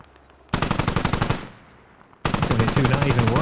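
A heavy machine gun fires in a tank-combat video game in two long, loud bursts of rapid, evenly spaced shots separated by a brief lull, with a faint rumble of other battle noise underneath.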